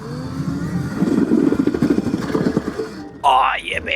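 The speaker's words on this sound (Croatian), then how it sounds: "Na zadnji ide normalno motor, malo je glasan." A cheap electric dirt bike's motor whines loudly and steadily up close with a rattling, buzzing tone, rising and falling as it rides, then cutting off near the end before a voice speaks.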